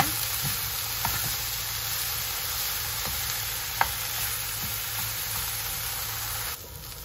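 Sliced bitter gourd (ampalaya) fries in a pan with a steady, close, even sizzle, broken by a few small pops and light stirring, with no talking.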